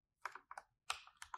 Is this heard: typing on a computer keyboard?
yes